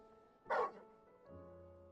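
Dog in Final Fantasy 16 giving a single short bark, close and fairly loud, over a quiet musical background.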